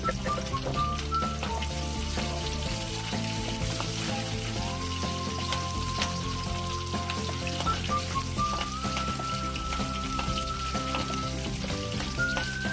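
Chopped onion frying in a pan for Nellore-style borugulu upma, giving a dense, steady sizzle that fills the whole stretch, with occasional stirring scrapes and crackles and no talk.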